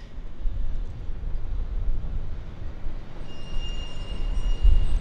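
Air North Boeing 737-800 jet on its departure from Vancouver International airport, a steady broad roar that builds slightly toward the end, with a faint high whine entering partway through.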